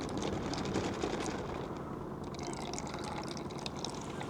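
Water from a reverse osmosis filter's drinking-water pipe runs steadily into a cup, a continuous close hiss of filling liquid with no talk.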